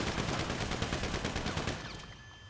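Heavy sustained automatic gunfire in a GTA Online firefight, a loud rapid stream of shots that fades slightly toward the end, with no talking.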